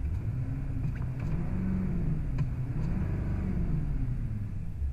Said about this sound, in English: As you can hear, it's a very quiet truck. That diesel, that Duramax diesel up there, ticking away.